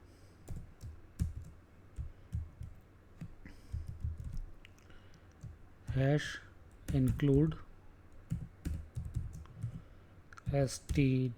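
Keys clatter on a computer keyboard as C program code is typed, with irregular runs of close clicks and taps while someone talks over part of it.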